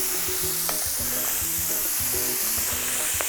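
Mushrooms and a sprig of rosemary fry in butter in a pan, giving a steady close sizzle with intermittent stirring scrapes and no talk.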